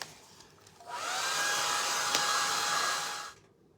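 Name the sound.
hair dryer drying decoupage on a light switch plate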